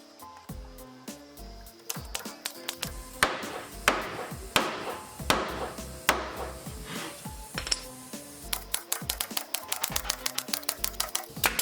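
A hammer drives nails into a wooden fireplace mantle piece, with a long series of sharp, ringing strikes that come steadily at first and then quicken into rapid taps near the end, close and loud.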